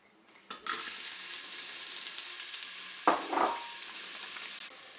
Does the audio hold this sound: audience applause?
no